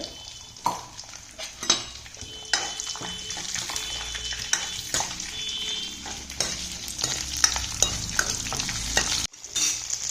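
Peeled onions with mustard seeds sizzle and fry in a pan for a yam tamarind curry, with frequent scraping, clinking stirs of a spoon against the pan over a steady close crackle.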